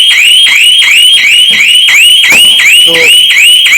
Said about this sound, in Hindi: हैवी अलार्म जो है वो ये डिवाइस से आना स्टार्ट हो जाएगा